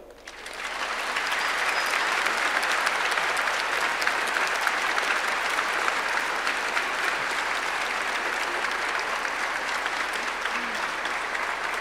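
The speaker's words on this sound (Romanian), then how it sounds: "Să-i aplaudăm!" Sustained applause from a large crowd after a choir's Christmas concert in a cathedral, steady and loud throughout with no pauses, rising quickly at the start and holding to the end.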